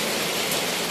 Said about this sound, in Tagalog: akala ko ambon lang, ulan pala yung masasalubong namin.